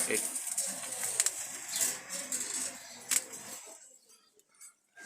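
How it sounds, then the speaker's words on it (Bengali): Brown-legged Jalali pigeons coo softly in a loft, low murmuring calls with a few sharper flutters and chirps, fading toward the end while a person speaks nearby. "এই যে এখানে আছে খয়েরি পায়ের কবুতর"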